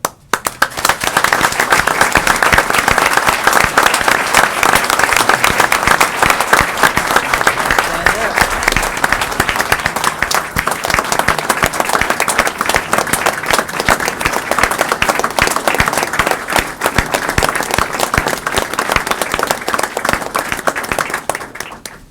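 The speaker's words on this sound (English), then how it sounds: "if I could, I'd like to give Paul Rachel a round of applause." Sustained applause from the room at a transportation commission meeting, many hands clapping in a dense, steady roar that continues strongly for over twenty seconds before tapering off.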